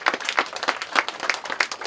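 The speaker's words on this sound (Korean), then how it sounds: "뜨거운 박수 부탁드립니다" An audience at the 86th memorial ceremony for writer Kim Yu-jeong claps for a baritone opera singer, the close, fairly loud applause pulsing in a quick, regular rhythm throughout.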